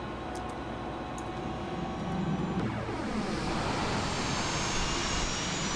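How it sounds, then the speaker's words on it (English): An L-39 Albatross jet engine starts up in the FSX flight simulator. A steady whine runs at first, then the spool-up climbs and swells into a louder rising roar over the last few seconds, with no voices. "either way, the engine's starting, so that's a good thing"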